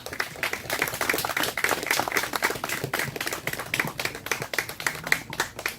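An outdoor audience at a memorial ceremony held in front of an old family house claps together in a brisk, continuous patter of many hands, moderately close and without speech.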